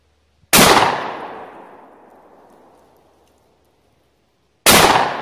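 Two loud, close blasts from a JW2000 12 gauge double-barrel coach shotgun, the first shot with a long decaying echo rolling out over several seconds, then a second sharp report near the end.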